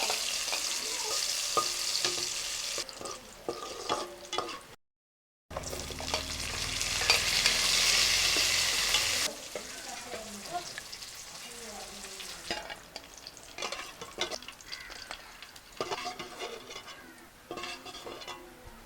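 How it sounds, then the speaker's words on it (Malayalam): Cashews and raisins frying in ghee in a home kitchen pan for vegetable fried rice give a loud continuous sizzle, broken by a brief silent gap, with repeated spoon-stirring scrapes and clinks against the pan. "ഇതേ നെയ്യിൽ തന്നെ കശുവണ്ടിയും കിസ്മിസും വറുത്തെടുക്കാം."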